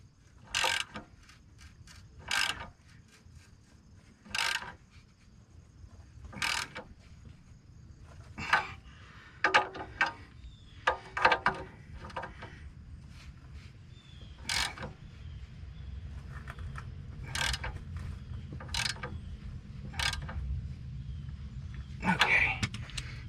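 A ratchet wrench tightens catalytic converter fasteners on a 2011 Nissan Altima 2.5, sounding as bursts of sharp, rapid clicks separated by pauses, close and crisp against a quiet garage background.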